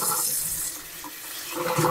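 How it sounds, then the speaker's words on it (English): Tap water runs steadily over garden lettuce being washed at a sink, a close rushing splash that dips briefly and then swells again, with no talking. "let's wash some of the lettuce that I got dirt all over"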